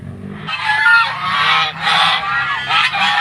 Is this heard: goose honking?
yes